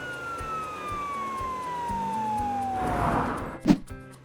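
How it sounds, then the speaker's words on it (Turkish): A police car siren wails steadily at moderate distance, its tone sliding downward, followed by a short, louder thump at the end. "Bu bir polis arabası."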